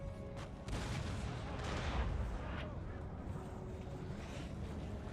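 Napoleonic-era cannon artillery booms in a Napoleon: Total War battle during the Italian campaign, a dense rumbling barrage of distant gunfire with a heavier blast early on, rolling on without pause.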